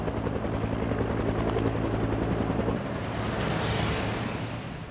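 An army attack helicopter flying, its rotor giving a loud continuous thumping beat with a heavy low throb, the rumble thinning and shifting toward a brighter whine partway through.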